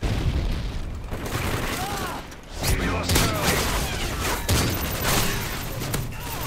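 Pistol shots in Call of Duty ring out as a few loud cracks against a busy, booming game soundscape, and a player talks over them.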